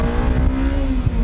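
An old car with a 123.5-horsepower engine accelerates, its engine droning loud and close in a steady, rising hum.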